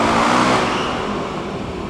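Motorcycle engine revving inside a jail, a loud, close, rough roar that eases off slightly over two seconds.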